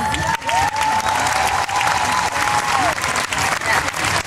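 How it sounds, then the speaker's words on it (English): Audience at a cosplay contest for kids at a fan convention breaks into loud sustained applause and some cheering, with a whistle-like tone riding over the clapping. "let's have a round of applause for all the kids in the contest"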